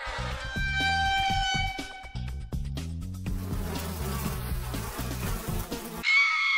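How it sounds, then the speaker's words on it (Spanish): Buzzing bees in a video game, a continuous insect drone under game music and effects, fairly loud and close, ending with a sharp electronic tone. "Abejas."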